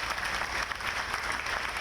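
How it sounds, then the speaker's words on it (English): Audience applause at a Memorial Day ceremony, a steady wash of many hands clapping together, moderately loud and continuous throughout without a break. "let's give a big round of applause to our Congresswoman, Linda Sanchez."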